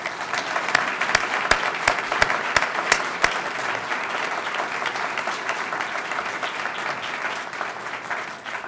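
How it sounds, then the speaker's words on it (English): Audience applause for an introduced leader, the NBBBS President and CEO, at a formal event: steady crowd clapping, a few sharp individual claps standing out early, sustained throughout without talk. "please join me in giving a round of applause to our great leader"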